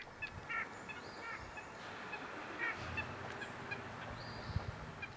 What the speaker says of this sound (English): White-breasted nuthatches make a lot of funny little noises